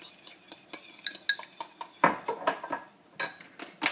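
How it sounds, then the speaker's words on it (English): A spoon stirs a drink in a glass, giving a fast run of close, bright clinks and scrapes against the sides that speeds up and slows in uneven bursts. "Stir it up, stir it up. Kind of like you're whisking an egg."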